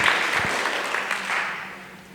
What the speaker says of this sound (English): please give them a round of applause for all of this amazing information